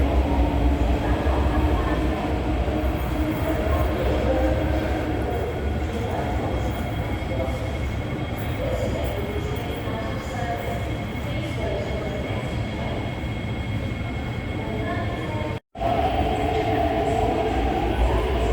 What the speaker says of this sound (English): We'll get a train in again on this side